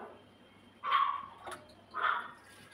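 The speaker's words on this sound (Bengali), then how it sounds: "ডগিটা মাঝে মাঝে ডাকছে" A pet dog barking a few times in the distance at a home kitchen, two short muffled barks with a quieter yip between them, alone over faint background hum.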